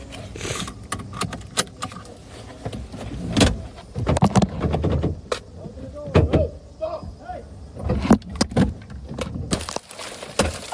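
A car window smashed out during a roadside confrontation, with repeated sharp cracks and crunching glass amid clattering and scuffling, mixed with background noise.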